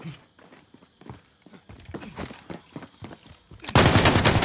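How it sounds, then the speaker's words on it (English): Video game gunfire crackles in a rapid string of sharp shots at varying loudness, ending in a dense, loud burst of noise. "Taking fire over here."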